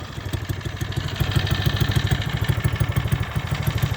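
Hammerhead 150 engine with a header, muffler and 2-inch exhaust idles steadily, a throaty low pulsing thrum with a rapid, even rhythm, close and fairly loud, with no voices.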